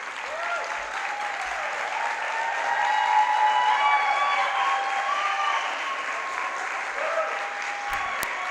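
A big graduation convocation audience claps continuously, a thick even roar of applause that swells slightly in the middle and holds steady throughout.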